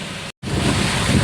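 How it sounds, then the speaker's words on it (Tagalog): Ocean waves and wind surge at sea during a rainy stretch aboard a small boat, a loud continuous wash with a brief dropout partway through and no talking. "Ito mga idol ang dagat."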